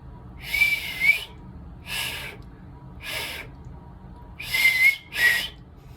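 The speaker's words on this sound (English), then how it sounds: "I didn't get very good whistles there" A person whistles loudly through the fingers or folded tongue in five sharp, breathy blasts, each about half a second long with pauses between, close and alone with no talk.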